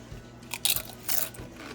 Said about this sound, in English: And you can hear my crunch.